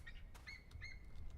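A person imitates birds with a few short, high chirping and whistling calls, close up and fairly quiet over a low background hum, with brief pauses between calls.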